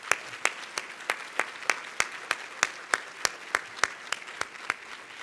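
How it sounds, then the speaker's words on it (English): Rhythmic applause at a fall university convocation, a round of even, steady claps ringing out over a soft crowd wash. "Let's give that group and everyone who made it possible a round of applause."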